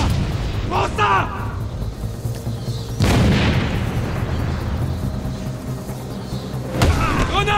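A grenade goes off in Batman: Arkham City, a sudden loud boom with a rolling rumble that fades over several seconds, while brief character voices sound before and after the blast.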